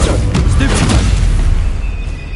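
A loud, booming blast from the Confringo spell in a wizard video game, one heavy roaring explosion that sustains and slowly decays over a couple of seconds, with a voice briefly present.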